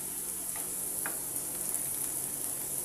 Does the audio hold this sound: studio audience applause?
no